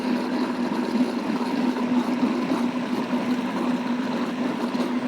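A blender runs steadily, spinning a tahini, tamari and lemon dressing made with flax oil. It gives a continuous close whir with a steady motor hum and no talking over it.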